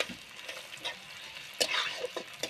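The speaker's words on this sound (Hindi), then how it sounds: "पलटा से हिलाओ, फ्राई होने दे प्रॉपर" Chicken masala frying in a pan while a spatula stirs it, with soft scrapes and light sizzling that are fairly quiet, plus a louder burst of scraping and bubbling midway.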